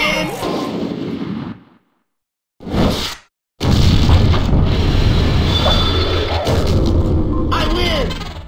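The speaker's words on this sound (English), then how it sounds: "It's a super finishing attack!" A super finishing attack in the Mushiking beetle game, heavy whooshing blasts and booming explosive bursts cut by two short silences, then a long loud rumbling barrage, with voices heard over it.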